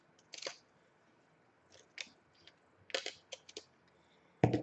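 Several crisp snips of scissors cutting paper, close and quiet, coming in short irregular bursts with pauses between.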